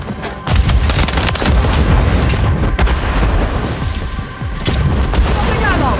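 A stun grenade goes off during Modern Warfare 3 (2023) multiplayer, a heavy boom set within a constant din of gunfire and blasts, loud and close, with some in-game voice callouts mixed in.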